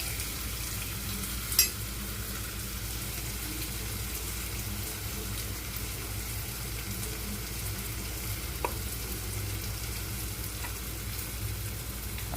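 Tomatoes fry and soften in a pan, giving a steady, even sizzle throughout with a couple of faint clinks and no talking.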